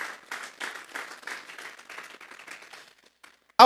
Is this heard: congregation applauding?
yes